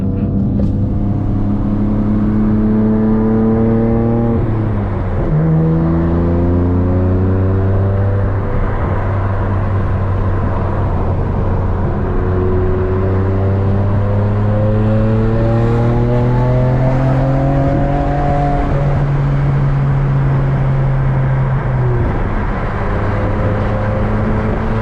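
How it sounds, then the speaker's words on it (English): A 550 whp BMW F80 M3 engine revs loudly and continuously up through the gears, its pitch climbing and then dropping at each shift, close and alone with no talk. "All right, so this F80 sounds really good. It's really peppy."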